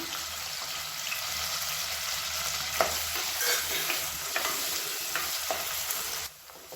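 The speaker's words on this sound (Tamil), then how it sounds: "இதில் மீடியம் சைஸாக ஒரு பெரிய வெங்காயம் பொடியாக கட் பண்ணதை சேர்த்து வதக்கிக்கலாம்" Finely chopped large onion sautés in hot refined oil in a pan for mutter paneer kurma, a steady close sizzle with occasional stirring clicks and scrapes, fading abruptly near the end.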